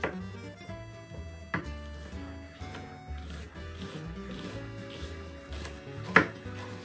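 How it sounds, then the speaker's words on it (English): A knife chops onions on a board in a home kitchen, giving a series of quiet, uneven cutting knocks at close range, with a sharper thud near the end. "When you cut onions, never cut them down. Always cut like this."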